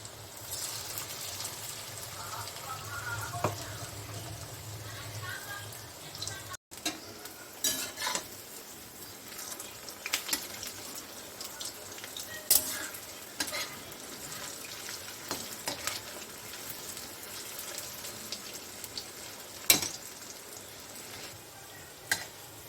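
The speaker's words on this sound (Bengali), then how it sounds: "খুব বেশি হাই হিটে ভাজবে না" Drumstick leaf pakoras, onion fritters made with flour, frying in oil over moderate heat: a soft continuous sizzle with occasional utensil clinks and stirs, quiet and close.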